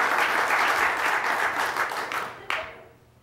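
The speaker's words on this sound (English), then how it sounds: "Go ahead, you can give him applause." Audience applause at a speaking event, dense steady clapping from a crowd that holds strong for about two seconds, then thins and fades out, with a final sharp clap near the end.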